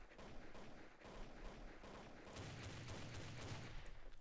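Rapid bursts of gunfire crackle through a round of Counter-Strike, dense overlapping shots at steady moderate loudness with a heavier rumbling volley toward the end, no voices present.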